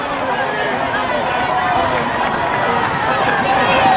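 A roadside crowd at a Tour of Britain stage finish fetes Mark Cavendish with a steady, dense wash of cheering and chatter, while a voice talks over it.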